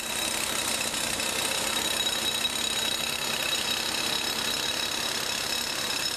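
Heavy machine drilling at an industrial or construction site, a steady, loud mechanical roar with engine-like rumble and a constant high whine running throughout without pause.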